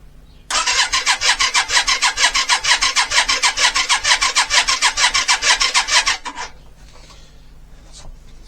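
A Yamaha Virago 535 motorcycle engine, just brought out of winter storage, cranks rapidly and steadily for about six seconds, loud and close, then stops abruptly and leaves only quiet background.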